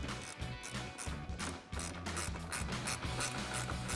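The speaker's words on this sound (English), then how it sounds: "we'll take a 10mm ratcheting wrench to tighten that down" A 10mm ratcheting wrench tightens the lower outer corner bolt on a 2014-2015 Silverado 1500 headlight, giving a steady run of quick, close mechanical clicks throughout.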